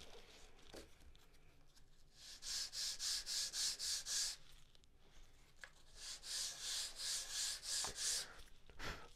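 Sanding a small chamfer into a corner of a wooden part for a Carl Goldberg Ultimate 10-300 model biplane fuselage: two close runs of quick, rhythmic back-and-forth rasping strokes separated by a short pause, with no talking.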